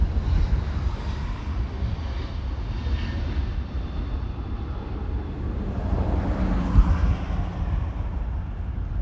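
A Hawaiian Airlines Boeing 787 airliner, its engines a broad low roar that holds steady and swells slightly as it passes, heard from a distance with some wind.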